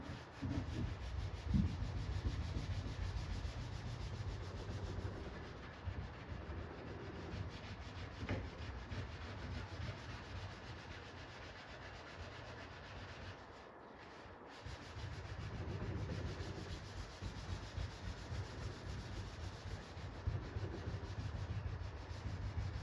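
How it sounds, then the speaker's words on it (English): Steady rubbing scrub against the residue-coated surface of a Jurassic Park 3 arcade cabinet during restoration, continuous and quiet, with a brief lull partway through. "let me finish scrubbing this off."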